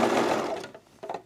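A sewing machine stitches a seam on a pair of pants, a fast mechanical whirring run that slows and stops, followed by a couple of faint clicks.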